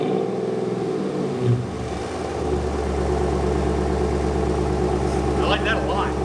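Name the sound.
Hemi-swapped car engine revving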